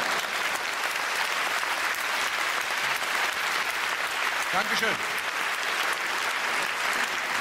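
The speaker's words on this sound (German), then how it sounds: "Wir klatschen alles mit in Holland." Loud, sustained audience applause fills a live musical comedy concert, steady clapping throughout with a brief voice thanking the crowd partway through.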